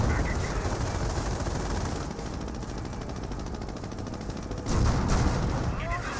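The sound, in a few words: Calliope rocket barrage in video game Company of Heroes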